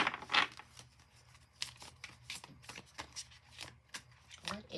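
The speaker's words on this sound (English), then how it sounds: "I'm going into the Believe in Your Own Magic Oracle deck for" Close, repeated bursts of a Believe in Your Own Magic oracle card deck being shuffled, each quick riffle separated by short pauses over roughly five seconds.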